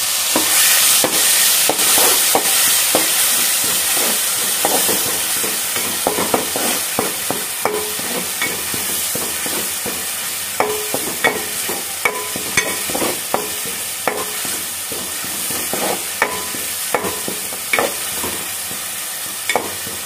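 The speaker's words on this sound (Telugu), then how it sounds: "ఇదైతే మంచిగా పచ్చి వాసన పోయేంత వరకైతే ఫ్రై చేసుకోవాలి." A paste of green leafy vegetables with cumin fries in a pan, a steady loud sizzle running throughout with frequent sharp clicks and scrapes of a utensil stirring it.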